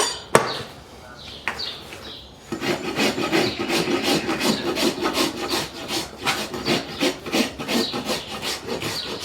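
A farrier's rasp files the lip of a horse's hoof level before the first shoeing, after earlier barefoot trimming; rough, rhythmic rasping strokes repeat steadily and close by after a short pause, with some brief handling noise at the start.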